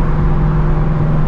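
Straight-piped Shelby GT350 exhaust with valves open, recorded from inside the car during downshifts: a loud, dense, continuous engine drone with a strong low hum, alone and without talk.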